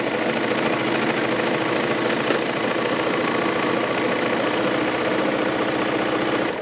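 Serger sewing machine stitching a seam on fabric microwave bowl koozies, a loud, continuous rapid mechanical whir with fine rattling vibration, running steadily and close up throughout.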